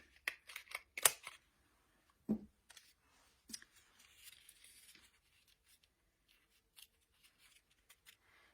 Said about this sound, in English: take your toilet paper roll, and all we're going to do is kind of squish it and cut it in half